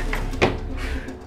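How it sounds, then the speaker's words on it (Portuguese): Drawers opened in a barbershop, a single short wooden sliding clunk midway over a quiet room hum, close and fairly soft. "Vou abrir essas gavetas aqui."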